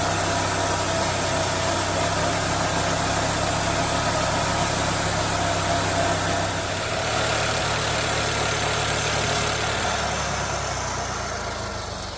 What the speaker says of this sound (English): Get the sawmill lined up.